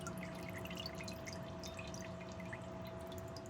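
Freshly dyed traps, chains, swivels and earth anchors lifted out of a speed dip bath drip steadily as they drain, many small drops landing close by against a constant low hum.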